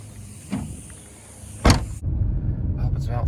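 Car stuck in slow traffic leaving Golden Triangle at Keller Hicks in the Fort Worth area, with a steady low interior road rumble, an electric window motor whirring briefly, and a short thump midway.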